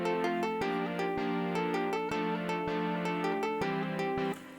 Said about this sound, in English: down here I added the bass playing chords